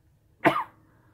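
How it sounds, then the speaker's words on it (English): A single sharp cough close to the mic, quick burst then a short raspy tail, in an otherwise quiet room. "Why am I coughing?"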